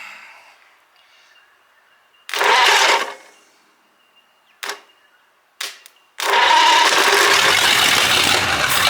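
An abandoned Ford flathead V8, sitting for over thirty years, cranks in short bursts with pauses between tries, then catches and runs loudly and steadily up close.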